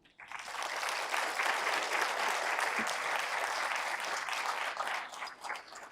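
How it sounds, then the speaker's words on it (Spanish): Warm, dense applause greets a speaker at a book presentation for El Telar del Alma, a full, even roar of many hands rising quickly and holding steady for several seconds before tapering slightly at the end. "Recibamos con un fuerte aplauso a Marta."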